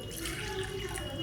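A little water pours into a pressure cooker with a short, close, gurgling splash that runs steadily without pause.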